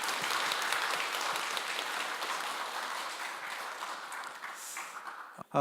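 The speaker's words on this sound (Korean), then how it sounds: "먼저 큰 박수부터 환영으로 맞이하면 좋겠습니다" Audience applause welcoming a guest at a Korean peace forum's special talk session, a steady dense wash of clapping that fades slightly toward the end before a brief cutoff.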